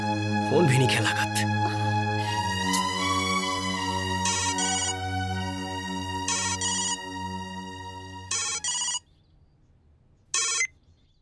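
A telephone ringtone in a Bhojpuri film plays a melodic ringing pattern over a steady music bed, ending in short isolated rings separated by silence.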